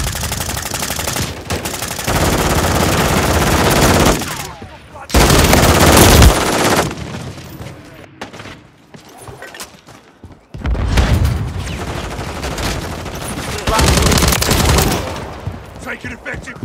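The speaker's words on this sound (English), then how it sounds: "Hostile deployed a remote turret." Remote turret firing in a Call of Duty match, loud sustained automatic bursts with heavy booms, broken by short pauses and resuming, with brief game voice chatter.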